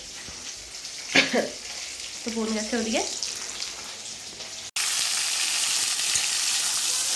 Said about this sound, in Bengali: আর এখন এখানে যে মাছ ভাজা হচ্ছে ছোটো মাছ ভাজা